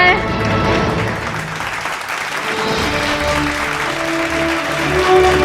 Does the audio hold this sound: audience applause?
yes